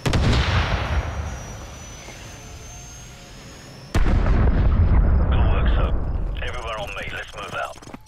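Heavy gunfire and explosions in Call of Duty: Modern Warfare Remastered, a loud booming blast that fades, then a sudden second heavy burst with rumbling, and a voice talking over the later part.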